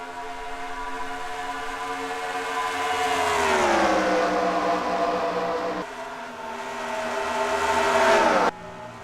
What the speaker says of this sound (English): And green flag for Jonathan Rains here in heat number 2